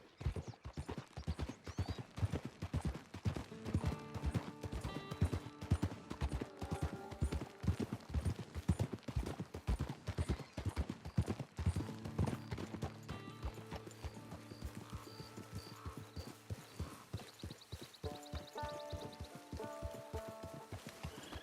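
Horse hooves clip-clop steadily through the Red Dead Redemption 2 video game world, a continuous rhythmic trot under in-game music and occasional whinnies, with light rain in the background.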